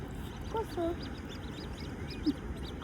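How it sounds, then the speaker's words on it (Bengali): Large ducks beside a canal in Belgium quack a few times, short and fairly near, with soft outdoor background noise and faint voices nearby. "এগুলাকে ডাকার সাথে সাথেই চলে এসেছে কত বড় বড় হাঁস"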